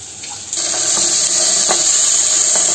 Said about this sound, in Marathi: पहिलं पाणी काढून टाकते.